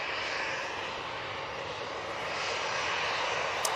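A Ryanair jet departing Manchester Airport for Belfast gives a brief, fairly faint, even engine rumble and hiss, constant across the moment with no speech.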